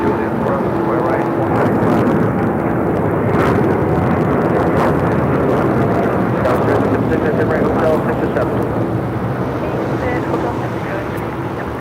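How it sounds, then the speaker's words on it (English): A United Airlines Boeing 787-10 Dreamliner taking off from LAX for Tokyo Haneda makes a loud, continuous jet roar, with radio chatter and voices intermittently over it. "This is United Airlines Flight 39 taking off to Tokyo Haneda on a 787-10 Dreamliner."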